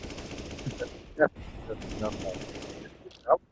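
Pistol and revolver fire in a Counter-Strike: Global Offensive match, two sharp distinct shots about two seconds apart over a steady background of game noise.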